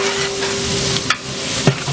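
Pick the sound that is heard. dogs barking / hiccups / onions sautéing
onions sautéing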